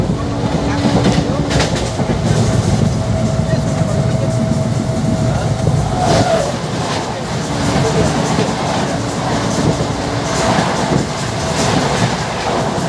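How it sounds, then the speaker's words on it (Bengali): The Maa Tara Express passenger train runs on rails between Ghoshkura and Bolpur, producing a loud, continuous, close rumble with rhythmic clickety-clack of wheels over rail joints and occasional faint squeals. "ঘোষকুড়া থেকে ট্রেন ছেড়ে দিয়েছে তার পরবর্তী স্টেশন বোলপুরের উদ্দেশ্যে"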